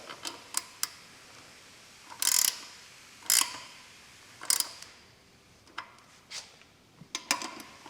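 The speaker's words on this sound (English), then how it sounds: "now we can tighten the front wheel with our 15mm wrench, both sides" A 15mm wrench tightening the front wheel nuts on a Higgs step-thru e-bike, giving a series of short, close ratcheting clicks and metallic bursts spaced irregularly across the clip, with no talking.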